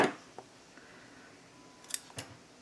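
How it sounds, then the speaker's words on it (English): Sharp scissors snip through baker's twine while trimming the tails of a bow on a paper mini album, a few quick close cuts in near silence. "Oh, darn my scissors."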